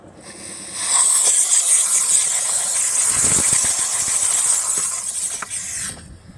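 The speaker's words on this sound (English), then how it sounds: "I'm gonna be using a forced air to blow out this place" Compressed air blasts out the fuel pump opening on a VW Golf mk5, a loud, close, continuous hiss lasting several seconds before cutting off.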